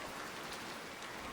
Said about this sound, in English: It's getting to be a downpour out there.